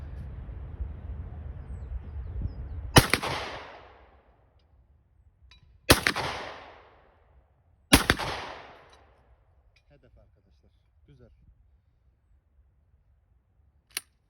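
Three loud, close shotgun blasts of Foster 32 gram slugs fired from a 61 cm slug barrel, spaced a few seconds apart outdoors, each booming shot trailing off into a fading echo.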